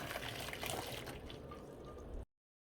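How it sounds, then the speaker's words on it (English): Boiling water pours steadily into a container for dyeing hair bundles, with a continuous splashing rush for about two seconds, then stops abruptly. "now I'm adding the boiling hot water to it."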